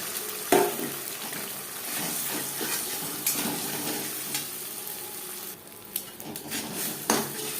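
Food fries in hot refined oil while being stirred, for homemade chicken egg chowmein, giving a steady close sizzle punctuated by clanks of a utensil against the pan and a few sharp metallic knocks.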